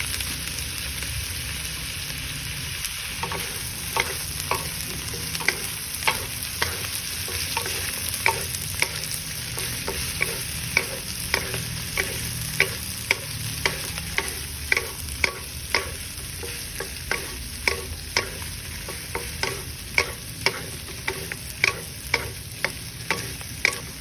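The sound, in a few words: garlic, onion and spring onion sauteing in a pan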